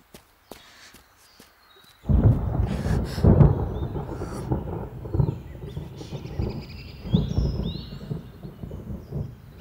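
A deep, rumbling roll of thunder before rain starts abruptly after a couple of seconds and keeps surging and fading in heavy waves, loud and close, with no talk over it.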